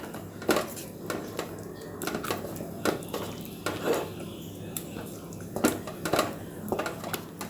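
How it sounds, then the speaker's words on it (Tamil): A thick black urad dal kali being stirred in a pot, with repeated dull scraping and knocking of a spoon against the metal in an irregular rhythm, close and moderately loud. "பாருங்கள், இப்போ கிண்டிகிட்டே இருக்கேன்."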